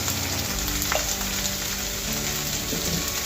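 Turmeric, chili powder and salt being stirred in a hot pan for aloo matar pulao, giving a steady close sizzle and frying hiss with faint scraping throughout.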